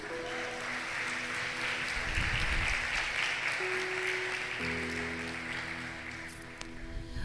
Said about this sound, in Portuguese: Aplausa Jesus.